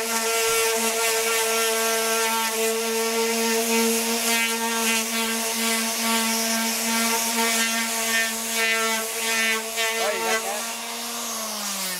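A power sander works over a motorcycle part on a Benelli and Ducati trackbike restoration, holding a loud, steady whining tone with a buzzing grind that wavers and dips slightly near the end.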